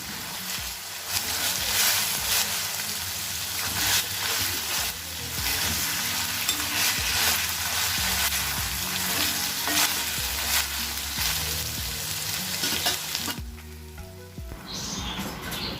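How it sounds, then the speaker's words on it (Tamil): Ginger garlic paste and minced mutton sautéing in hot oil for keema masala, a loud continuous sizzle with stirring scrapes, close and steady, easing off near the end. "நான் சேர்த்து இஞ்சி பூண்டு விழுதை பச்சை வாடை போகிற வரை நல்லா வதக்கி விட்டுக்கோங்க அந்த எண்ணெயிலேயே."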